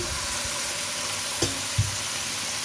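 Rice wine splashes into a hot pan of frying meat and sets off a steady, close sizzle, with two soft clicks of utensils against the pan.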